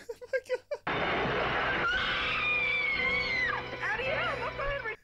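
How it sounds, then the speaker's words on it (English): A shrill, drawn-out scream from the 1980 comedy film Airplane! bursts in suddenly, wavering and bending in pitch for several seconds, preceded by a few short clipped sounds. "That was a good scream."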